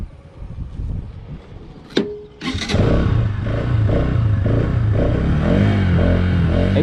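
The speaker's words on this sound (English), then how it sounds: "Exhaust note is quite bassy" A 2021 Bajaj Pulsar NS200 motorcycle starts with a click and crank, then settles into a loud, deep, bassy idle with a rumbling, pulsing exhaust close by.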